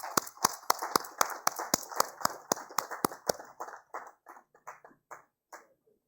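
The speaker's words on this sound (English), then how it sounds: "Please give a big round of applause to Satin Care Credit Network Limited." Applause at the ISC FICCI Sanitation Awards ceremony comes as crisp, evenly spaced claps that thin out and fade toward the end.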